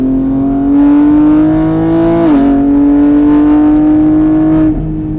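A loud car engine on a race track revs steadily higher in pitch, dips briefly as it shifts gear, then keeps climbing, a droning roar close at hand.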